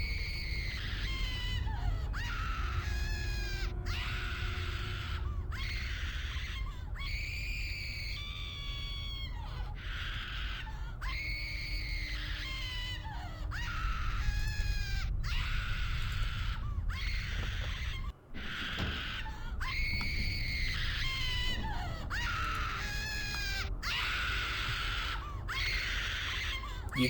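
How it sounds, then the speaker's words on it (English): A servant screams in RuneScape 3, repeated loud wailing cries in a steady rhythm over a low rumbling drone, nearly deafening and without talk. "the servant's screaming seems to get so loud it is almost deafening"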